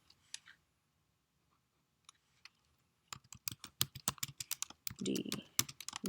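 Keys clatter on a computer keyboard while text is entered with a text tool, a few isolated taps at first and then a quick burst of close, crisp typing.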